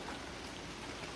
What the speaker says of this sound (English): we're getting like the outskirts of just the rain